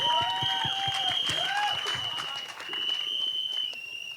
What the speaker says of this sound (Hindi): बंसल साहब के लिए एक बार जोरदार तालियां हो जाएं